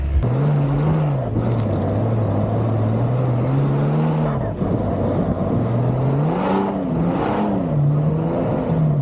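A Porsche 911 Dakar driven hard off-road across open sand dunes, its engine droning loud and steady with rising and falling revs as it accelerates, heard close and continuous.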